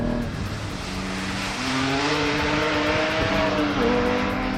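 Porsche Cayman GT4 MR accelerating out of a slow corner, its engine note climbing steadily through the revs, loud and close, with no talking.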